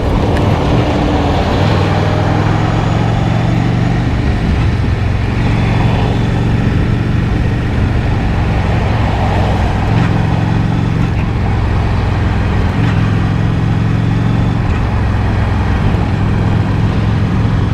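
Rush hour road traffic heard from a moving motorcycle in Baltimore: a loud, steady engine drone and wind roar run without a break, with no talk.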